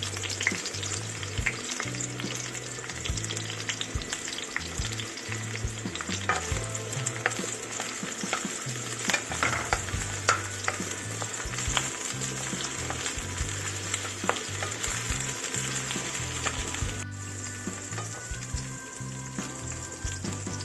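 Garlic sautéing in a pan for mongo soup, a long, even, close-up frying hiss with ongoing stirring and scraping, uninterrupted by speech.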